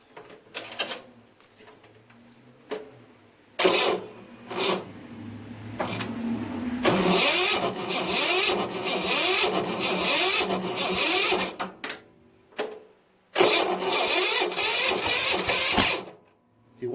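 A Craftsman chipper shredder engine failing to start, with repeated mechanical clunks, then long grinding, whirring bursts of cranking that stop abruptly, separated by quiet gaps, loud and close.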